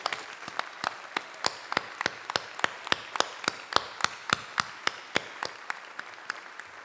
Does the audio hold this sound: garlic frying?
no